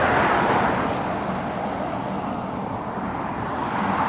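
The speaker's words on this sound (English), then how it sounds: "it turns out it's a Gold Star Mercedes Actros" A Mercedes Actros truck in Gold Star livery passes close by at a truck stop beside the A5 at Cannock, a steady broadband engine and tyre roar holding loud throughout, with constant road traffic noise around it and no talk.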